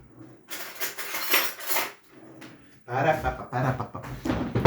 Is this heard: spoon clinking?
yes